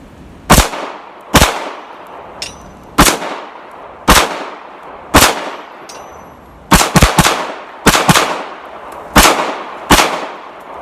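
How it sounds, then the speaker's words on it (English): Taurus G2C pistol fired at a 3-inch metal spinner target about 15 yards away, around a dozen sharp, loud shots in an uneven rhythm, single shots then a quick cluster, each with a brief ringing tail. "I'm shooting at like a 3-inch metal spinner at you know, maybe like 15 yards"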